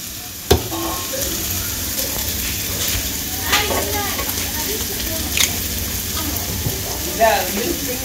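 Eggs go into a pan of frying vegetable bhaji over a village cookstove, giving a steady loud sizzle punctuated by a few clanks and scrapes, with a voice speaking nearby.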